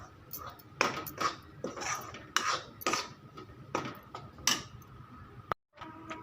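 A spoon scrapes and stirs a besan barfi mixture being roasted in a pan over a low gas flame, giving irregular clinks and scrapes at close range that pause briefly near the end.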